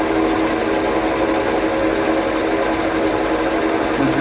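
Wood lathe turning a length of timber at about 44 rpm on a frequency drive, a steady continuous machine hum and whir running throughout with no pauses, close and fairly loud.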